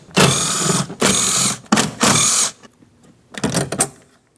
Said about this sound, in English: We'll use a 10mm for each mounting nut,